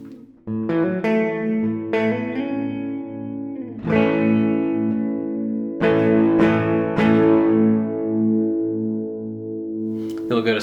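Electric guitar run through a Swindler Effects Red Mountain tremolo pedal set to triangle wave, strummed chords pulsing in an even, rhythmic throb, with several new strums across the passage played loud and close.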